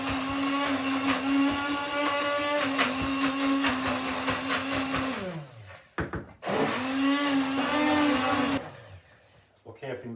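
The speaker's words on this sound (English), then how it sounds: "I'm just going to use a hand blender. So this will make a wee bit of a noise." A handheld immersion blender whirs loudly through tomato sauce in steady, buzzing runs, with its pitch sagging as it stops around six seconds, then a second burst before cutting out near the end.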